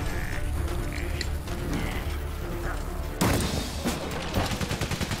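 Machine gun fire in the World War I video game Valiant Hearts, a burst of rapid rattling shots after steady background game noise, loud and close.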